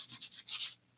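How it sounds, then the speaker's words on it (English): Hand sanding on a plastic part from an AMT Diamond Reo tractor model truck kit gives short, soft rasping strokes in a quick back-and-forth rhythm, close and quiet with no talk. "I get to sand this all over again."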